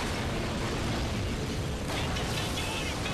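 A helicopter exploding in the shooter game Spec Ops: The Line, a dense, loud, sustained roar of blast and debris that keeps rumbling, with no voice over it.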